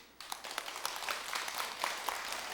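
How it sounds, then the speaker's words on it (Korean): An audience of temple followers claps during a Sunday Buddhist sermon at Jogyesa temple, a burst of many hands that begins abruptly and keeps on steadily and moderately loud, with no voices over it. "박수 안 치라게도 이렇게 치시고"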